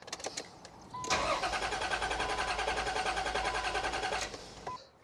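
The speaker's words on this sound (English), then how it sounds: "So I'm going to go start the car." A car engine cranks briefly, catches and runs at a steady idle for a few seconds, then cuts off, heard close and with no talking.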